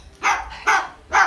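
Pet parakeet imitating a dog's bark: three short, clear barks in a steady rhythm, close and fairly loud, with no other sound around them.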